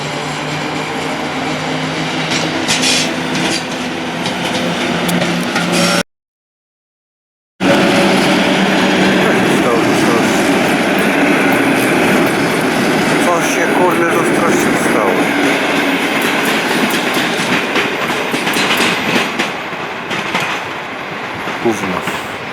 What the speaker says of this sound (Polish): przy peronie pierwszym przejedzie pociąg bez zatrzymania